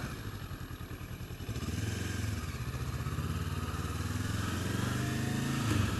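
Motorcycle engine heard from the rider's position, a pulsing low rumble that deepens and steadies as the bike gets under way, fairly quiet and with no talk.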